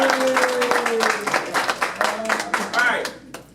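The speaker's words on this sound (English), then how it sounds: "let's give them a round of applause" Clapping from a small audience rises under a speaking voice, steady applause that thins out and stops after a few seconds.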